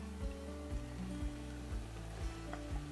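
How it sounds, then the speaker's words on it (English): Onion going into a seafood gumbo pot with sausage, a steady low sizzle under faint tonal background music, with soft repeated thumps of stirring. "So at this point, we're gonna add in the onion."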